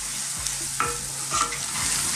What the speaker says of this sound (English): Let's just cook this for a couple of minutes, get all that garlic and onions happening together.